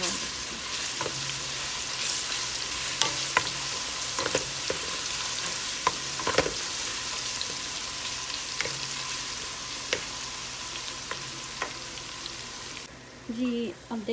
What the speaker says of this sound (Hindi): अब देख लें हमारा लहसुन भी फ्राई हो चुका है